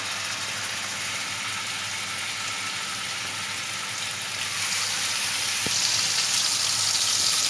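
Beef burger patties dropped into lightly heated oil in a pan, a soft steady sizzle that grows louder and brighter partway through, with no talking.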